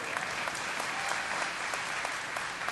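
Dense audience applause fills a convention hall during a Diablo 3 question-and-answer panel at BlizzCon 2010, a steady wash of many hands clapping at moderate distance, with no voices over it.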